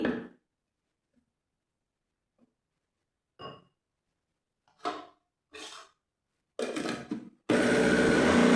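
Mostly quiet with a few soft knocks and clinks, then a blender mixing cornmeal cake batter whirs on loudly and steadily for the final second.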